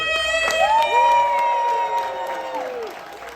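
A convention audience cheers and applauds, with whoops and shouts over a rising crowd roar. Loud, sustained tonal yells and screams ring above the clapping.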